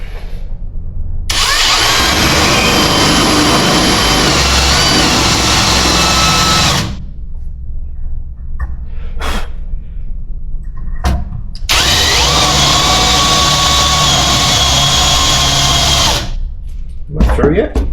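A spot weld cutter bit drilling out spot welds in sheet metal, a loud steady high-pitched power-drill whine in two long bursts separated by pauses with brief short taps.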